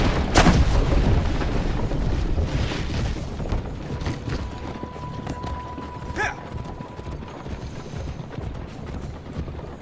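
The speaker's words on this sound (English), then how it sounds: "we keep getting shot at" Gunfire crackles through a battle in Assassin's Creed Brotherhood: a sharp loud shot opens, then scattered booms and pops follow amid hooves clopping and a steady rumbling din, with a brief tone sounding in the middle.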